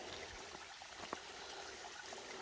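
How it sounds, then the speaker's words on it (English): A little trickling waterfall on the Appalachian Trail in Georgia, a faint steady wash of running water with a couple of small splashes, distant and quiet. "little trickling waterfall."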